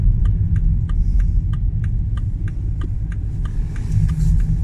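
Car pulling into a roadside lay-by: a steady low engine rumble inside the cabin with the even ticking of the turn indicator throughout.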